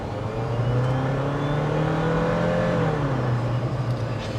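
A 2023 Jeep Wrangler Rubicon 4xe plug-in hybrid driving and accelerating, a loud steady engine drone with a rising then falling rev, heard from inside the vehicle.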